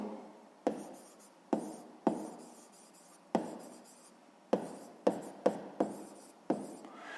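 Pen strokes on paper while numbers are written out for a sixth-grade math exercise, a series of short scratchy bursts separated by pauses, close and fairly quiet with no talking.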